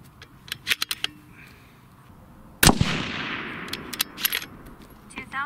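A single loud rifle shot from an Impact 737 custom action chambered in 6.5 Creedmoor cracks sharply and rings out into a long fading echo, with faint clicks and handling noises before and after.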